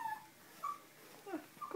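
A 15-day-old Chihuahua puppy gives several thin, high whimpers in short bursts with brief pauses between them, close but fairly soft, with no talking.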